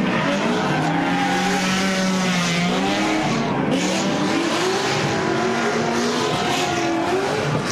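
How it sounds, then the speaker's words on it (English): A BMW 3 Series leads a five-car drift tandem with a Nissan behind it at Palm Beach International Raceway. Loud, continuous engine roar and revving mix with screeching tire squeal as the cars slide close together, with no speech. "now we have another 5-car tandem over here. We got a BMW 3 Series leading the pack with Nissan in the back."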